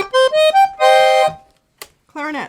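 A black FisItalia 34.44-TC piano accordion plays on its oboe register: a quick rising run of short reedy notes, then one sustained loud chord that fades into a pause before a voice speaks.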